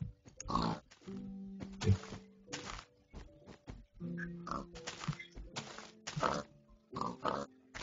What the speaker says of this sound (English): I'm gonna have to run over to one of the pigs now.